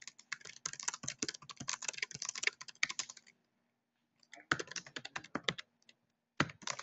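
Fingers type on a computer keyboard in quick, uneven bursts of close, crisp key clicks. A pause of about a second falls in the middle, then typing resumes with a short final flurry.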